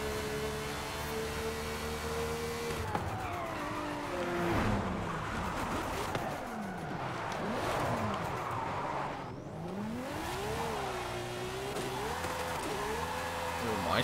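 An Audi TT RS, tuned beyond 1000 horsepower, pulls hard in fourth gear on a highway. The engine note climbs steadily in long rising sweeps, dipping briefly before climbing again, loud and continuous from inside the car.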